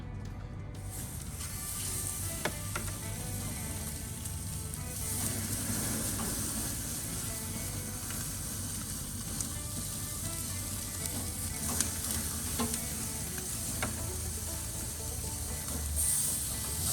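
Butter-marinated chicken thighs on hot grill grates of an Oklahoma Joe smoker, a loud continuous sizzle with scattered crackles and pops throughout.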